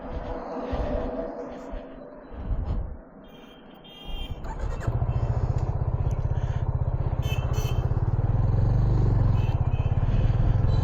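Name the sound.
Yamaha FZ 25 motorcycle riding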